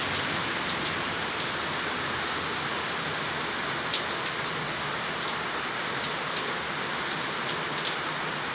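Steady downpour in Santo Antônio de Pádua, an even, dense wash of rain with frequent sharp raindrop taps near the microphone, unbroken and without speech.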